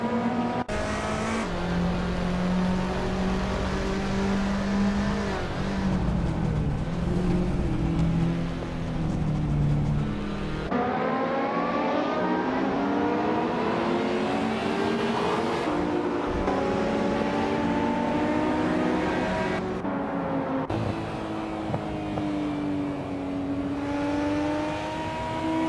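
A 1984 Ford RS200 race car screams through a racing game lap, the engine revving high and shifting repeatedly, with sharp drops and climbs in pitch, loud and continuous with no talk.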